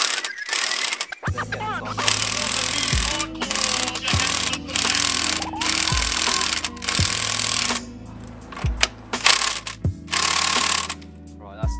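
Ratchet and breaker bar tightening parts on a car with an oil leak, heard as repeated close mechanical clicking strokes with sharp ratcheting bursts every second or so, alone without talk.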